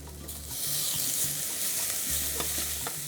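Onions, ginger, garlic, turmeric and banana flower fry in a pan, a close sizzle broken by stirring scrapes and clinks of a utensil.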